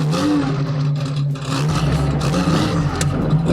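A Porsche 935 DP Motorsports car with a 4-speed gearbox pulls away, its engine droning loud and close as it revs and accelerates, a dense mechanical roar from inside the car with no talk.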